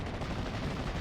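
Tank gunfire in Steel Division: Normandy 44, a World War II strategy game battle at Cheux, as shots are aimed at a Sherman Firefly; dense, continuous rumbling blasts of game combat fill the whole moment at steady loudness.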